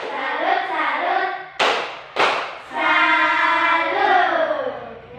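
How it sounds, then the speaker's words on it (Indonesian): Classroom students doing the rhythmic 'tepuk salut' clap routine, chanting in unison with two sharp, loud group claps cutting through the sung chant. "Tepuk salut untuk Reski."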